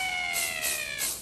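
A cat meowing in an anime scene, a short high, drawn-out wavering cry that rises and falls a few times, fairly clear and close with no talk.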